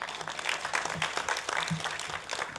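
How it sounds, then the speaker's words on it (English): A debate audience applauds a UN Under Secretary General, a dense sustained patter of many hands clapping close and fairly loud, with no talk over it. "Another round of applause for her."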